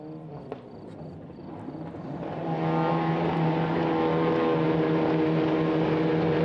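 TCR touring race cars revving together on the Hungaroring starting grid, a dense engine roar that swells sharply after about two seconds into a loud, sustained multi-car drone with steady harmonic tones.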